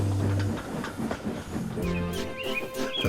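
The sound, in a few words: steam locomotive puffing away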